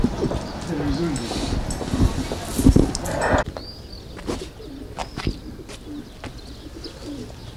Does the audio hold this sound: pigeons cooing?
yes